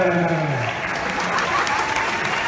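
A talent-show audience at everis Got Talent 2019 applauds a performer, steady dense clapping filling the room, with a voice talking briefly over its opening moment.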